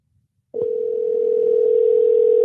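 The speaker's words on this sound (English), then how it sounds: "ooh, it's ringing." Facebook call connecting on a phone: after a short silence a steady single-pitch ringing tone starts abruptly and holds, clear and fairly loud.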